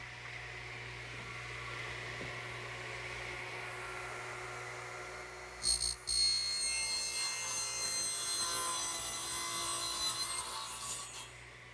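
Wooden bookcase shelves being cut to length with a saw, a steady rasping cut that grows louder and brighter partway through, with a brief sharp knock just before, close up and without voices.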